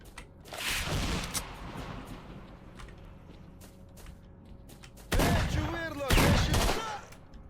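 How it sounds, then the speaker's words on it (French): Grenade blast and gunfire in the Stalker game: an early booming volley fades into a quiet stretch, then loud bursts of shooting return near the end, close and harsh. "Oh, grenade."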